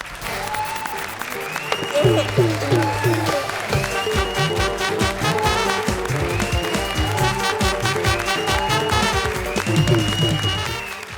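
Studio audience applause at a Comedy Circus comedy show, a steady sustained clapping lasting the whole stretch with music and stage sound mixed in, loud and fairly close.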